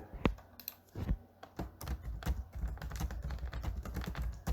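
Rapid, close clicking of keys being typed on a computer keyboard, an irregular run of sharp taps at moderate volume with no talking.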